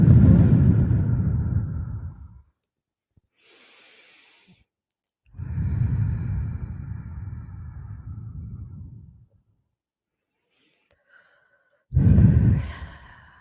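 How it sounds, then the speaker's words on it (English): Two long, deep breaths, each a slow audible inhale swelling into a heavy, breathy exhale, close to the microphone, with quiet gaps between and a third breath beginning at the end. "So I'm going to take a couple deep breaths."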